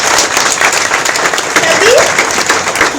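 A crowd at a Women's Day gathering applauds itself, giving continuous, loud, hearty clapping from many hands, with a few faint voices rising through it.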